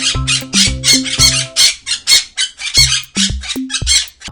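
A parrot squawks in a rapid string of harsh, loud, close calls, bursts broken by short gaps, with no talking.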